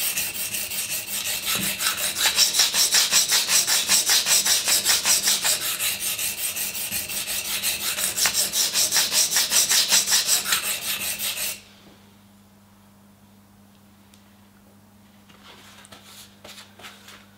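A Spyderco Endura 4 knife blade is sharpened on an abrasive stone in close, rhythmic rasping strokes, steady for about ten seconds before stopping, followed by a faint low hum and a few light scrapes.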